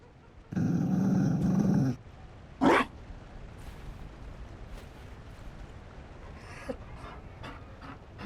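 A Mabari war dog in Dragon Age: Inquisition Trespasser gives a gruff growl lasting over a second, then a short sharp huff, followed by quiet panting and scattered faint clicks.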